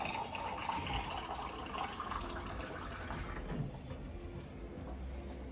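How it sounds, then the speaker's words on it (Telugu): Water poured into buttermilk in a kitchen, a soft continuous trickle and splash, faint and close, with no voices. "కొద్దిగా వాటర్ కలుపుకుందాం"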